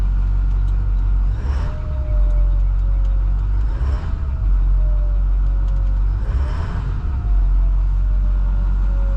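A 2011 International 3200 shuttle bus engine idling with a deep, loud rumble, rising in three slow revs and settling back between them, heard up close with no talking.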